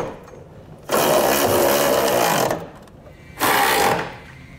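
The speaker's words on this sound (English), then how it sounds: "We can now go back and tighten down our hardware with a 19 millimeter socket." A 19 mm socket on a power driver tightens Curt Class I trailer hitch bolts on a 2012 Audi A5, giving two loud, close buzzing bursts, the first about a second and a half long and the second shorter, with no talk.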